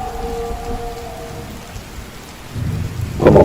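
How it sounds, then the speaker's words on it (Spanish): A torrential downpour lashes against windows during a violent night storm, with a low rumble of thunder that builds into a loud, sharp crack at the end. No voices are heard. "un intenso relámpago, una reverberación chasqueante y la primera descarga de un aguacero torrencial que batía demencialmente contra las ventanas"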